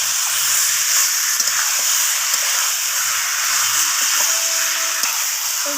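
Chicken sautés with onion and tomato in a pan, a steady, close, bright sizzle with occasional faint clinks of stirring.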